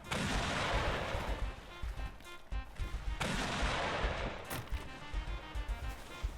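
Cannon fire in a pirate-themed video game, a dense barrage of booming blasts and crackling explosions rolling almost continuously, loud and close, with brief lulls between volleys.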